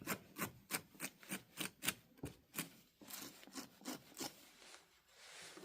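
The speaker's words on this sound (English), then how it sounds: "take your scraper and just kind of smooth it. I'm not scraping, I'm just smoothing it out" A scraper smooths the surface of a primitive hand-built clay bowl in steady back-and-forth strokes, about a dozen rhythmic rubbing passes heard close and alone.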